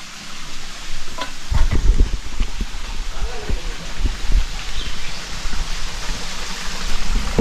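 Water overflows from a clear freshwater spring tank into a second pool near Devgad, a steady close rushing and splashing with occasional low thumps throughout.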